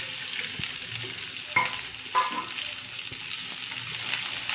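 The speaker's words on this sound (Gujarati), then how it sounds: "4-5 કાજુ, મરચી અને હવે ડુંગળી નાખી દઈશું।" Cashews, chillies and chopped onion frying in oil in a pan for paneer masala, a steady close sizzle with a couple of louder spits as pieces hit the hot fat.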